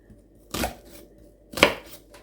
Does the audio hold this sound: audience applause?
no